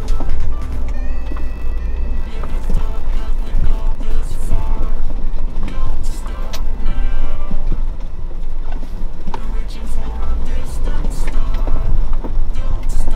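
A Jeep Wrangler JK crawls through small off-road ruts with its engine rumbling steadily up close. The low drone runs under bumps and rattles throughout, with a voice speaking over it.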